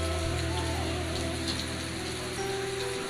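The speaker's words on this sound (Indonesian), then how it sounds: "Turun hujan, baraya." Heavy rain pours steadily over a village in Kampung Arca, Desa Sukawangi, a dense, constant hiss of drops on surfaces close by, with no voices.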